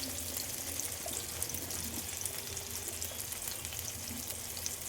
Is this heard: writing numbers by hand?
no